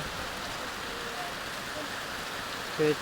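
Heavy rain pours down in a steady, even hiss that fills the whole stretch, with a brief louder patter near the end.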